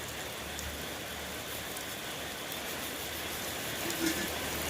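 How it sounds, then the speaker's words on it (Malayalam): Heavy rain falling outside, a dense, steady hiss that stays even and fairly close, with no voices over it. "പുറത്ത് നല്ല മഴയാണ്"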